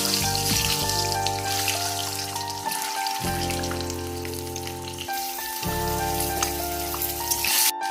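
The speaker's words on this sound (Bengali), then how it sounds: "একই তেলে ডিমটা দিয়ে দেবো" An egg fried in hot oil in a pan after pointed gourd was fried in it, giving a continuous close crackling sizzle over an intermittent droning hum, with no talk.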